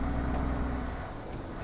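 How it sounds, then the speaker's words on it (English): A 6x4 fleet-spec truck engine runs at a steady pace, a quiet, even low rumble with no talking over it. "I enjoy the sound that this engine makes."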